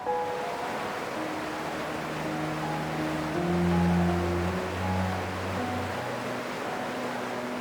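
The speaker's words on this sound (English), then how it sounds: "it's quite a noisy environment with the river" The River Dart at Holne Bridge on Dartmoor rushes steadily nearby, a broad continuous wash of flowing water with a faint low hum running through it.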